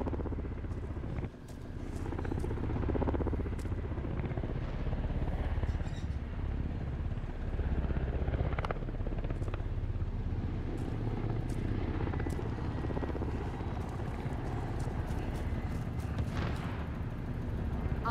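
Aircraft flying overhead in Call of Duty, a rumbling engine drone swelling and fading over a long stretch, mixed with sharp bursts of gunfire and explosions in the game.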